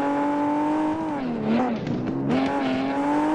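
A Class A BMW race car in the Drive Zone Online racing game revs loudly and close, its engine pitch sagging and climbing through shifts with a hint of tire squeal.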